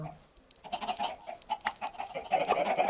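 Several Minecraft chickens cluck and chatter in quick, overlapping bursts, growing busier toward the end.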